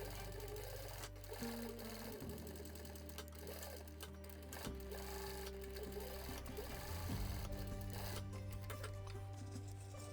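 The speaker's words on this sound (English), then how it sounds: "since I have this sewing machine, I should use it." A sewing machine stitches a leather drinking horn strap, its motor whirring in steady bursts that shift speed and pitch, close and alone with no talk.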